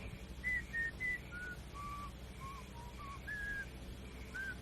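A man whistling a slow, wandering tune of sustained notes outdoors in a Western film scene, thin and moderately distant over a low background rumble, with no speech.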